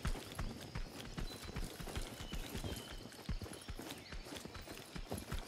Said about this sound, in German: Ich höre wieder Schritte.